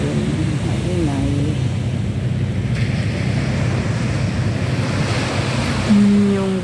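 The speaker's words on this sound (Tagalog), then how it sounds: "Maingay ang hampas ng alon" Waves pounding a seashore at night, a steady loud roar of surf with wind buffeting the microphone, a voice talking faintly at moments.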